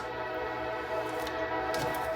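A passing train's horn sounds through a steady, loud rumble that fills the whole clip, heard from a home kitchen during meal prep, with no speech.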